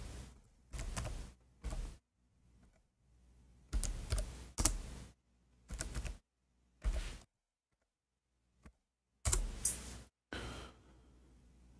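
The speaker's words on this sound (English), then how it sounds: "I'm typing in English." Someone types in English on a computer keyboard, producing loud, close bursts of rapid key clicks separated by short pauses, with no talking.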